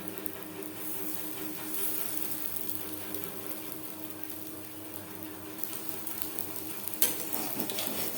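Split pea lentil fritters sizzle steadily in hot oil, a continuous crackling hiss with a brief clink near the end, no voices.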